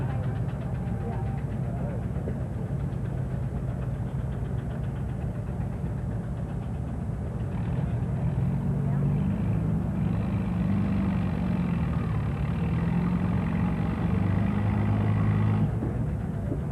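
An International Harvester H tractor engine runs at a 1985 heritage weekend event, a steady throbbing chug close by with a slight rise in pitch midway, while someone talks over it.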